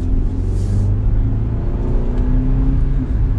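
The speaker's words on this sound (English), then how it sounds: "We'll give it a little bit of gas here, nothing crazy, and get up to the speed." A 2021 BMW X1 sDrive28i SUV engine accelerating in sport mode, a steady, close and loud low drone and rumble that builds smoothly, with no talk over it.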